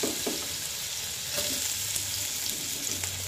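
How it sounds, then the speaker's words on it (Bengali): Potatoes frying in hot oil in a pan give a steady, close sizzle with a few light stirring taps, and there are no voices. "এখানে আমি আলুটা ভেজে নিব।"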